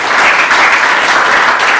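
Loud, steady applause from a church congregation at a Paris worship service, dense clapping filling the room without a break.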